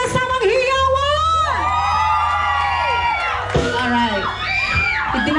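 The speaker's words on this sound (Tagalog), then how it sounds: "magsipalakpakan naman ng malakas na may kasamang hiyawan!" Guests at a 60th birthday party with a live RnB band cheering loudly, whooping and yelling over a sustained crowd roar, with a low band drone underneath and voices shouting near the microphone.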